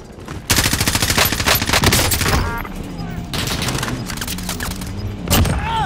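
Rapid automatic gunfire in Call of Duty: Modern Warfare, loud dense bursts of machine-gun fire with short pauses between volleys, continuing throughout with faint talk mixed in.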